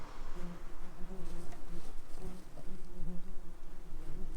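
A swarm of wasps buzzing at a nest inside a wall, a dense, close, continuous drone with wavering pitch from many insects, loud and alone.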